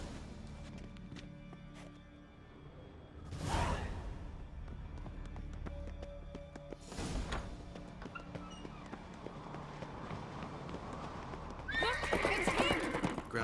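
Horses in a video game, with two loud whinnies separated by a few seconds over ongoing hoofbeats, then a burst of faster galloping clatter near the end.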